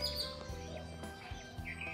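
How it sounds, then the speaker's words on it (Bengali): Several birds chirp and call outdoors in the early morning near a pond in Bangladesh, bright tweets overlapping against a soft background hum, fairly close and continuous. "আপনাদেরকে একটু পাখির ডাক শোনাই।"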